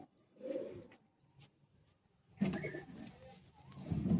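Madrasi pigeons in a loft give soft, low cooing calls nearby, one short burst early on and a fuller round of coos toward the end, with quiet gaps in between.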